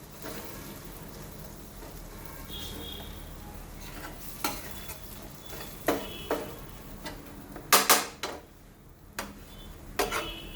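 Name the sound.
stirring spices into a paneer mixture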